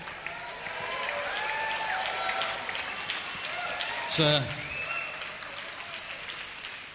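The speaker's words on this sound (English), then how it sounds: "attractively restrained applause there" Restrained applause from an evening audience at a filmed event carries steadily through the whole stretch under a murmuring crowd, with one brief louder clatter near the middle; someone speaks briefly over it.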